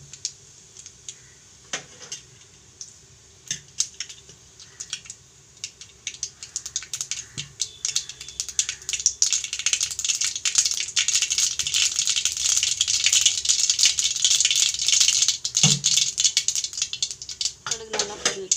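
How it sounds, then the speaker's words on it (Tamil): Mustard seeds crackle and spatter in hot oil, starting as sparse pops and building into a dense, continuous sizzling rattle close to the pan, with occasional clinks of utensils. "கடுகு நல்லா பொரிஞ்சிச்சு"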